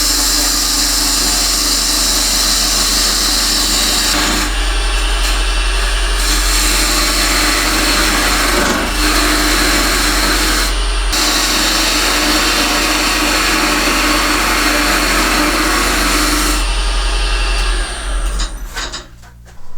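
A wood lathe turns a tenon on a wooden box: a loud, steady whirring rumble with scraping texture, broken by a few brief dips, before it winds down and stops at the end.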